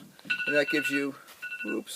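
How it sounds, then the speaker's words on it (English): A phone alarm clock rings with a bright, repeating electronic tone in two bursts, sounding under and between a person's speech. "sorry, that's my phone"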